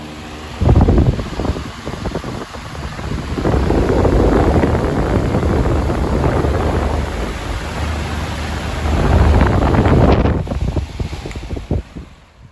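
A 2000 Honeywell 18-inch HV fan, unrestored, runs on high with a loud, steady whooshing roar that swells and eases, close to the microphone with no talking.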